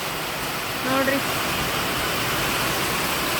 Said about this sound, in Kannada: ನಾವಿಷ್ಟು ಮಳೆ ಹೊಡಿತೈತಿ ಅಂತ ಅನ್ಕೊಂಡಿರ್ಲಿಲ್ಲ.